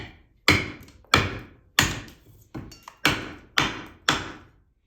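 A beveled-edge donation knife chopping through material in a cutting test, seven sharp chopping impacts at a steady rhythm, each a loud close thud with a quick decay, no talking.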